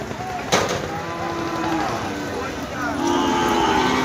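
Cattle moo repeatedly amid a noisy, crowded outdoor din at a cattle market in Betaga, Bagerhat, with people talking in the background and a sharp knock partway through.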